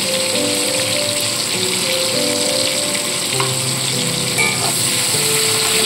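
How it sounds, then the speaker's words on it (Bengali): Chopped tomato and green chili paste with a little salt sizzling loudly in a hot pan, a constant close frying hiss with a few faint spoon scrapes and soft tonal hums in the background. "সেই টমেটো কাটাটা দিয়ে দিচ্ছি। তার সাথে দিচ্ছি কাঁচা লঙ্কা বাটা"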